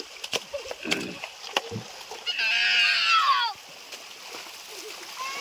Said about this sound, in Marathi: डोंगरातलं गार पाणी वाहत आहे खोऱ्यातलं. बघा कसं पाणी वाहत आहे